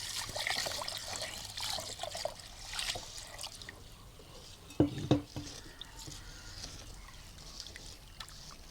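Water is poured over rice in a bowl to rinse it before soaking for chicken bukhari, a quiet trickling and sloshing with a couple of brief splashes midway.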